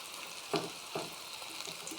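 Onion fritters (piyaji) frying in hot oil, a soft, steady bubbling sizzle with a couple of brief clinks or stirring bumps, fairly quiet and close.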